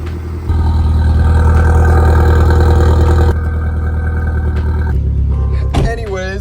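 A gutted car with a short shifter fires up and settles into a loud, close idle, the engine note dropping slightly after a few seconds, with a brief high squeal near the end.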